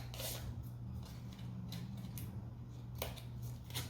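Scissors cutting through paper in a few short, crisp snips spread across the moment, close and fairly quiet over a low steady hum, with no one talking.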